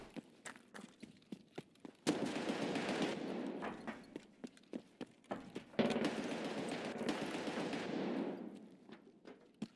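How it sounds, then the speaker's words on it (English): Automatic gunfire crackles in Escape from Tarkov, with two long sustained bursts of rapid shots and scattered single cracks and footsteps around them, heard at moderate distance with no talking. "Lots of shooting."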